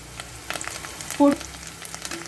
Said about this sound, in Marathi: तेल आपलं छान गरम झालं आहे. आता ह्याच्यात आपण एक छोटा कांदा बारीक कापलेला घालतोय